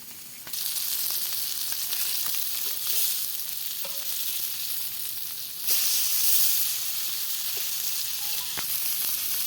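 Steady, crackling sizzle of pomfret frying in hot oil, continuous and close, with occasional sharper pops and a brief surge in intensity midway.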